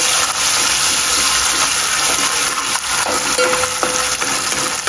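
Ginger and garlic fry in a hot pan for chicken kheema pav, giving a loud, steady, close sizzle with faint scraping and clinks of stirring and no talk.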